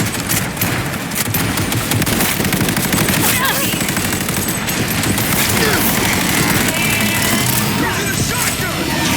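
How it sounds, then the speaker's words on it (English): Heavy gunfire with shotgun blasts in the video game Cyberpunk 2077: Phantom Liberty, a loud continuous barrage of rapid shots and blasts that runs the whole time with no pause, mixed with game voices. "Using a shotgun!"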